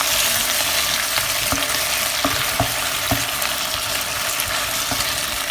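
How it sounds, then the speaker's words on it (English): Cream and spinach pasta sauce is stirred in a pan, a continuous close bubbling sizzle with soft, regular taps and scrapes of the spoon against the pan. "let me stir it up."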